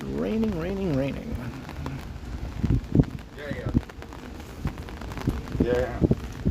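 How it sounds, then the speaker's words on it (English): Rain falls on a Toronto city street on a wet Saturday evening as a steady hiss under close, continuous talking, with a few louder splashes and knocks. "It's raining, raining, raining."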